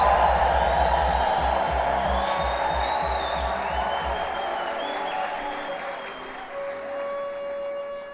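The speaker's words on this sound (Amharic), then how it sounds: "የተሰበረለት እስቲ እልልታ፣ ጩኸት፣ ጭብጨባ ያመጣል።" A church congregation at a prophetic service breaks into loud, sustained applause with cheering and high trilling ululation, steady crowd noise filling the hall before tapering slightly near the end.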